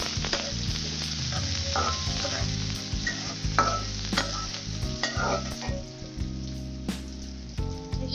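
Onions fry in soybean oil with a steady close sizzle, punctuated by irregular stirring and scraping strokes against the pan.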